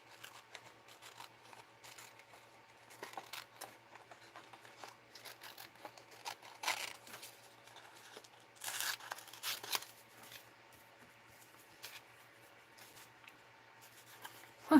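Paper being cut closely with scissors around a figure for an art journal, quiet snipping and rustling with a few louder crinkling bursts, close up and alone.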